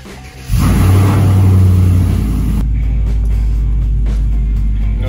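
A 2014-or-newer GM truck on a test drive after its brake vacuum pump was deleted, its engine revving up loudly and then settling into a low steady rumble heard from inside.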